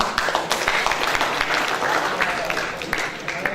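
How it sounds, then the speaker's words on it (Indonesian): A campus audience in Bali claps at a talk about Indonesian Twitter use, brisk moderately loud applause with crowd noise throughout the few seconds. "Tepuk tangannya dong"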